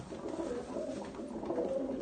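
Close, mellow cooing from a paired pigeon and its mate rolls on in low, repeated throaty phrases, steady and unbroken, with no people talking.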